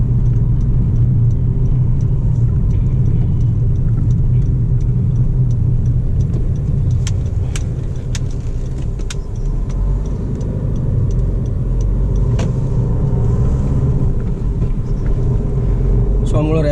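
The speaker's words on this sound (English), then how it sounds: "So I'm gonna rev the car." A loud, steady diesel engine of a Honda Amaze car rumbles close by in second gear, droning continuously with slight rises in pitch and no clear pauses.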